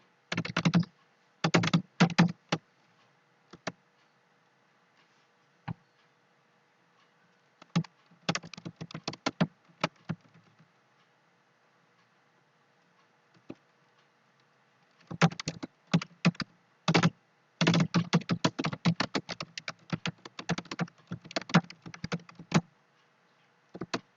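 Bursts of rapid keyboard typing, close and crisp, come in several clusters separated by quiet pauses as someone fills in a form on a computer.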